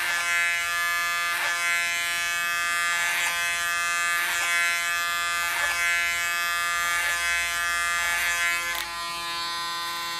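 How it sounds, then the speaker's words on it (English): Electric hair clipper buzzing steadily and close while cutting a woman's hair into a short style, a constant whine with gentle periodic swells as the blade passes through hair, no voices. "Use the clipper as a comb."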